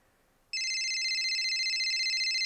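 In a horror video game, a telephone downstairs starts ringing after a quiet half second. It is a sustained, shrill electronic ring that continues steady and loud to the end, with no talking.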